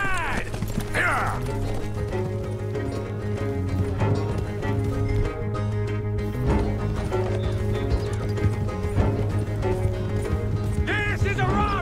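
Horses galloping as they pull a stagecoach, a steady dense clatter of hooves with rattling wheels and harness, loud and close and continuous, with brief shouts and horse whinnies over the din.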